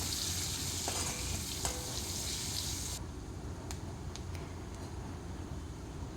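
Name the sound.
curry leaves, garlic and onion frying together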